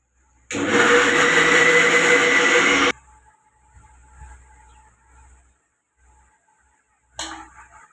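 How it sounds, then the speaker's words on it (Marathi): A kitchen mixer grinds Alphonso mango pulp in a loud, whirring burst of about two and a half seconds, then cuts off to quiet background clatter before a short restart near the end. "आता हे सगळं मिक्सरला बारीक करून घेऊ"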